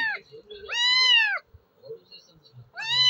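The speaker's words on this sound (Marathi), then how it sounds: "काळ्याला बोलवाली आमची मांजर।" A cat meows twice, loud and close, with a long rising-falling cry and the start of another, separated by quiet rustling.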